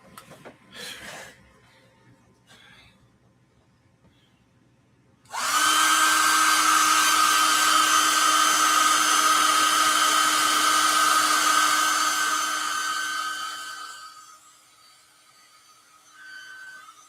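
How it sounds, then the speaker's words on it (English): A hairdryer blows steadily for about eight seconds, loud and close with a constant whirring hum, used to dry painted gifts, then winds down; faint handling noise before and after. "let's make sure that the hairdryer is plugged in first"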